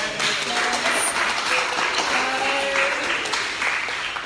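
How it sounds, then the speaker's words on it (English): A round of applause from a rehearsal audience in a town hall, steady dense clapping running throughout at moderate level. "Let's give her a big round of applause."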